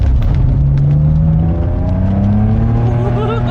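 A repaired rally Toyota Supra engine running loud and close, its pitch climbing steadily in a smooth rev as it picks up speed.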